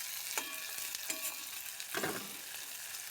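Onions fry in a pan with a continuous bright sizzle, punctuated by three distinct scraping strokes of a spatula as they are stirred.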